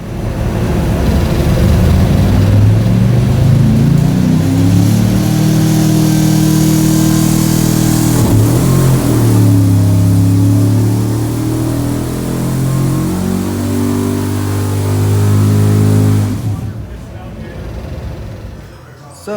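Mopar 440 V8 on a dyno inside a booth, pump gas, roaring loud and steady through a long full-throttle pull as the pitch climbs, then dropping away as the engine is let off.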